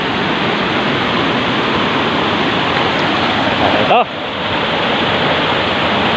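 Tili Ti Nuang waterfall rushing with clear water, a loud, steady broadband roar filling the whole scene, briefly interrupted by a short spoken word near the end.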